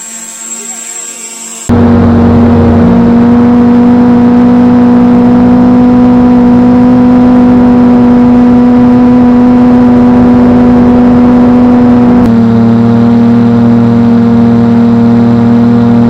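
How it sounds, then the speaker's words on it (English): A 450-size quadcopter with budget APM Arducopter setup whines steadily as its motors and propellers spin, a loud sustained buzzing drone that kicks in abruptly after a short quieter start and shifts pitch slightly near the end. "Let's first watch how this quad flies and footage from this camera."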